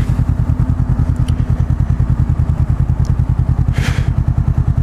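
A Honda CBR500R motorcycle engine pulses in a fast, even rhythm up close while downshifting into first gear, loud and continuous, with a brief mechanical clatter near the end.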